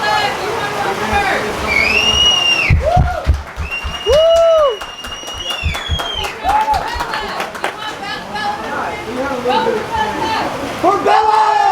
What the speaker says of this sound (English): All right, everyone clap for Michaela.